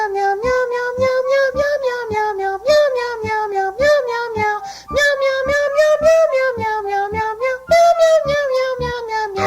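A cat meows repeatedly and loudly, a rapid series of sharp, rising meows close by with no talking.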